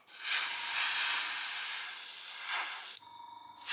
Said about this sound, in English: We spray the Mr. Surfacer on, and then it will show up any imperfections